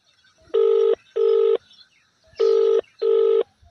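Four clear telephone keypad tones beep as a number is dialed, each short and evenly loud, in two pairs separated by a brief pause. The room is otherwise quiet, with no speech.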